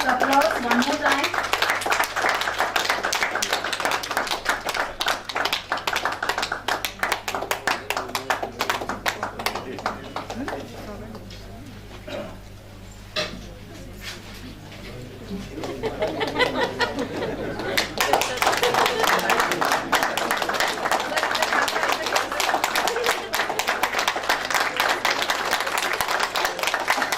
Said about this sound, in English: Can we please have a round of applause one more time?